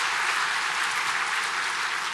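A church congregation applauds to welcome a visiting missionary pastor, a brief, even burst of dense hand clapping heard on its own without talk.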